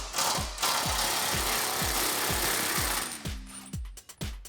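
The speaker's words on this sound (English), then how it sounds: "I'm going to take that 10mm socket and just loosen up this brake line bracket right here." Impact wrench with a 10mm socket loosening a brake line bracket on a Jeep Wrangler JK, rapid rhythmic hammering bursts close by, stopping with a few short clicks near the end.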